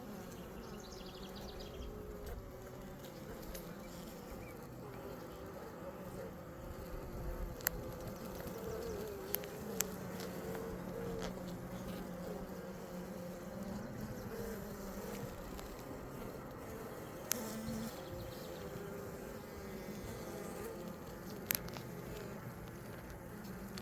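Honeybee colony humming in a steady, dense drone throughout an open hive inspection, with a few faint clicks and taps over the buzzing.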